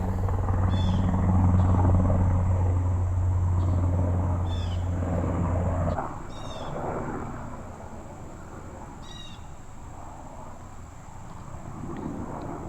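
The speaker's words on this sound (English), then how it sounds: "There's a lot of helicopters recently" Low helicopter rumble and rotor drone that fades after a few seconds, leaving wind and faint chirps in the background.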